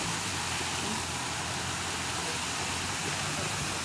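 Hill stream water flowing at a family campsite, a dense, steady rushing wash that stays constant and fairly soft throughout, with no voices over it.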